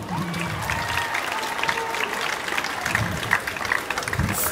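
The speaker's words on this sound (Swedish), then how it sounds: "Och självklart en stor applåd för alla andra skolorna också." Sustained audience applause for participating schools at a Swedish school exhibition event, an even, moderately loud bed of many hands clapping that carries on throughout, with a few sharper claps standing out.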